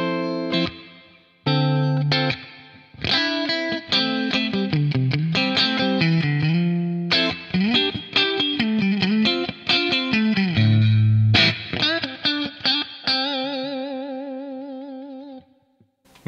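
Electric guitar played through a Boss RV-500 reverb pedal on its bright plate setting, a loud run of picked notes and chords with distorted edge, ending on a long wavering sustained chord that tails off.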